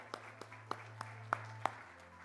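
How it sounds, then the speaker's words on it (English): A few scattered, isolated hand claps for the winners at the 3rd Pakistan Remittance Summit 2023, spaced roughly every third of a second over a steady low electrical hum in a quiet hall. "A big round of applause for all the winners"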